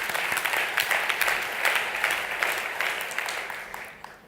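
A round of applause from delegates at a trade union congress, dense clapping from a large hall audience that holds steady, then gradually thins and fades toward the end.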